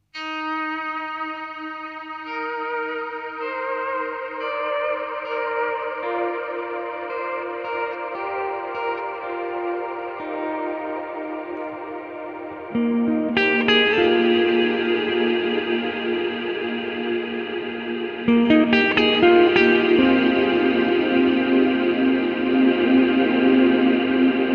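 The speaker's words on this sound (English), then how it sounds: "Then we get into the space sounds, and the first one is Skynet" A spacey synth sound effect run through the ASTRONAUT multiverb plugin: sustained, layered tones thick with chorus, echo and reverb swell continuously and grow louder and denser in two distinct steps.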